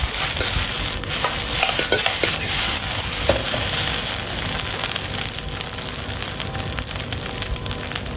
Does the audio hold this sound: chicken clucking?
no